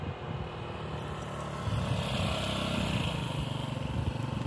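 A Hornet motorcycle rides up a driveway, its engine droning at first and then growing louder and rougher as it accelerates closer.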